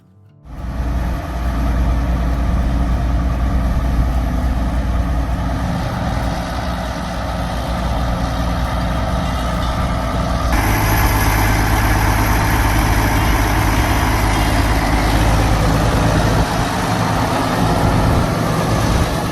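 An Allis-Chalmers D21 tractor's diesel engine idles steadily, a loud, continuous low rumble with a slight shift in tone partway through, heard alone without voices.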